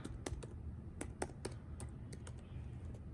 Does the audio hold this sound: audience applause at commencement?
no